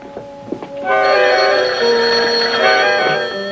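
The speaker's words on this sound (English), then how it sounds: "Well, I'll phone her." A bright, sustained telephone bell ringing in a vintage radio sitcom, loud and close after a few brief sounds, continuing for about two and a half seconds.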